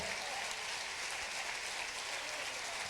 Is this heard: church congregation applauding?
yes